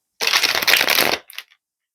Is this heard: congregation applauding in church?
no